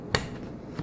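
A sliding glass door latch snapping into the locked position, one sharp close click near the start, followed by a fainter tap at the end, with no speech.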